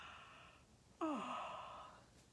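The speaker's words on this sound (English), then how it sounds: "Can you yawn?" A single soft yawn comes in one breathy rise and fall, quiet and close, voiced by an adult leading a children's bedtime wiggle song.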